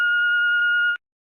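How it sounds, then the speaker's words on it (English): A single loud answering machine beep, a steady electronic tone lasting about a second on its own before cutting off abruptly into silence. "here comes the real beep,"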